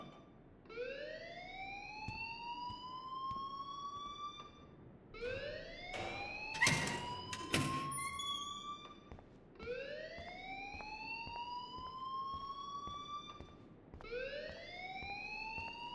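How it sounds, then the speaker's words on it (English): A fire alarm in the video game Life is Strange wails in repeated rising sweeps, each lasting several seconds with short gaps between, moderately loud with a few sharp clatters in the middle. "please turn off that alarm since that's your job"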